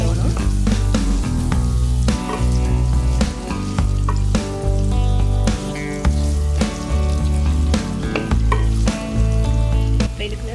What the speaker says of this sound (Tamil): இதில் வெங்காயத்தை போடுவோம். கொஞ்சம் வதங்க விடணும்.